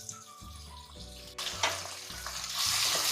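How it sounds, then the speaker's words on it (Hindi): Spices with turmeric, Kashmiri red chilli and salt frying in oil in a pot for handi chicken chickpeas, a steady close sizzle with stirring scrapes and a brief watery splash partway through. "हमने इतनी देर भून लिया कि ऑयल ऊपर आ गया है।"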